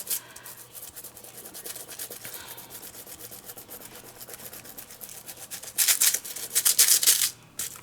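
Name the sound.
rubbing foil sheet with fingernails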